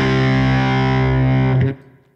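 Electric guitar driven through an inexpensive OCD-style overdrive pedal set to high peak mode, a loud, thick distorted chord ringing steadily for about a second and a half before being cut off and decaying.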